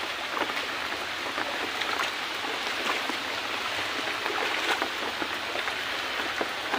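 A Sylhet river swollen with floodwater in 2022 rushes past, a dense, steady hiss of turbulent flowing water that stays loud and even throughout with no voices.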